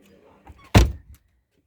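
A door is pushed open by a dog with a single loud, close thunk and bump, followed by a brief rattle, after soft shuffling sounds and before quiet.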